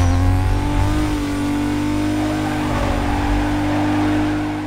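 A car engine in the NFS Carbon racing game revs hard and accelerates while drifting, a loud, steady high-pitched whine sustained and close throughout with no talk.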